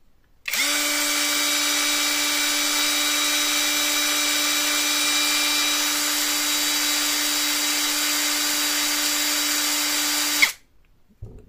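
An MLHY 20V cordless drill runs steadily at 274 rpm for about ten seconds, a constant close whirring whine that starts abruptly and cuts off cleanly, with no voices.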